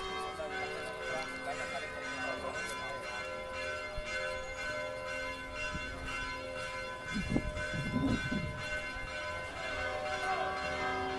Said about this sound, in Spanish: doblan las campanas